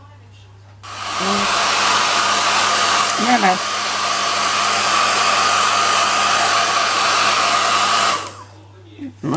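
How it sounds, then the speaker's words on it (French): A hair dryer blows steadily and loudly for about seven seconds, drying polymer clay, then cuts off, with a brief voice before and after. "Alors, je vais chercher mon sèche-cheveux."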